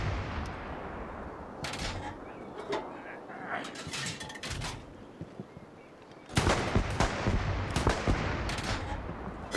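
Gunfire in the World War II shooter Hell Let Loose on Xbox Series X: bursts of shots and reports crackle over a busy battlefield background, growing denser and louder in the second half, with a voice talking partway through.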